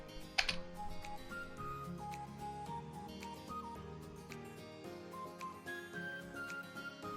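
Keystrokes tapped out on a computer keyboard while entering a pip install command, a quick run of light clicks with a few louder key hits.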